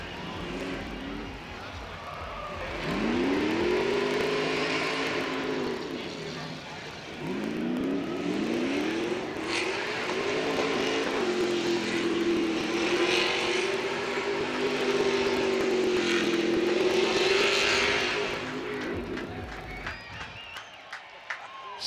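Race cars roaring along Shoreline at the 2022 Long Beach street race, engines rising and falling as they pass, with a crowd and an announcer's voice over the noise.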